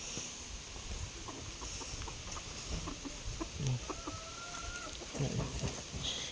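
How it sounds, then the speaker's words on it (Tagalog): Chickens cluck intermittently in the open air on a farm amid a steady outdoor hiss, with a few short calls standing out at moderate distance. "Yung mga manok."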